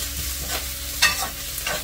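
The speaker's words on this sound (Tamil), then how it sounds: "பச்சை மிளகாய் சேர்த்துட்டு நல்லா வதக்கிக்கலாம்." Steady sizzle of green chillies sautéing in hot oil, with brief scraping stirs in a pan, close and continuous, no talking.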